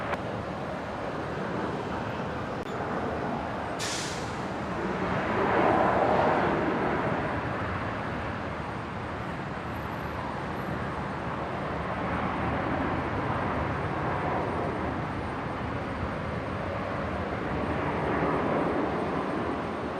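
A Velocity (Virgin Australia) airliner takes off from runway 19 right at Brisbane International Airport, a steady broad distant roar that swells slightly mid-way and holds on without voices.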